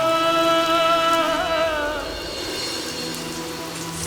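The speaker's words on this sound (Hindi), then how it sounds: "अगर बारिश हो रही है" Rain falling at night during a storm, a steady hiss of drops on surfaces beneath sustained tonal singing of a classical raga that fades after a couple of seconds, leaving the rain alone and moderately loud.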